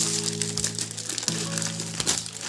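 Plastic packaging around a Pokemon magazine crinkles and crackles as it is torn open, in short close-up bursts with a faint steady hum underneath.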